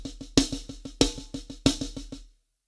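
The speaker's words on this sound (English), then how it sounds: "Single paradiddle" Single paradiddle rudiment played on a drum, quick even strokes with a sharper accented hit recurring about every eight notes, close and fairly quiet, no talking, ending in silence.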